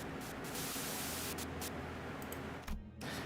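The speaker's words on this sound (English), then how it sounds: "A sudden buzz of white noise breaks through the truck's silence." Radio static in the video game Limbus Company: a dense, continuous buzz of white noise from a radio speaker inside a truck, loud and unbroken, cutting out briefly near the end.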